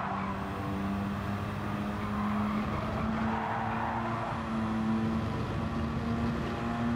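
A car engine in the Gran Turismo 7 racing game pulls steadily in fourth gear at around 170 km/h, a continuous droning whine that rises slowly in pitch, with light tyre noise underneath.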